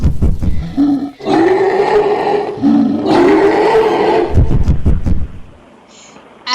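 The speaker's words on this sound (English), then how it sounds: "our guest did the sound effects for King Kong" A loud, sustained King Kong roar, produced as a sound effect, swells in two long growling bursts separated by a brief pause, then gives way to a few grunting bursts and fades near the end.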